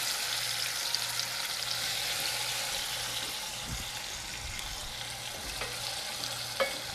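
Tomatoes dropped into a pan of lightly sautéed garlic for a tuna pasta sauce fry with a loud, even, continuous sizzle, with a few faint utensil knocks near the end.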